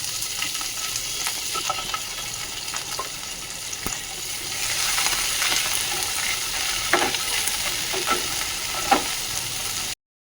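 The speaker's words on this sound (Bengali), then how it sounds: "এটা একটু হালকা ভেজে নিচ্ছি" Paneer and vegetables sizzle steadily in a pan on a home stove, a continuous near hiss with occasional stirring scrapes and small pops, no voices.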